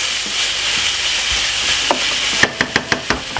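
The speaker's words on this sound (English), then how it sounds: "put a little bit of butter in the pan, make it melt off and bring in a lovely flavor to the vegetable which you are frying off at the moment" Vegetables fry in melted butter in a pan for a pork-tail stew with peas, a loud continuous sizzle joined near the end by a run of sharp, evenly spaced knocks from a spoon or utensil.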